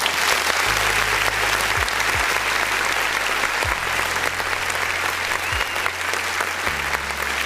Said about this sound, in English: let me do this right quick and clap